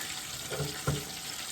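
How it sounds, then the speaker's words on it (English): Water boils in a kitchen pot ready for noodles, a soft continuous bubbling rush with a couple of slightly louder burbles near the middle. "our water is now boiling"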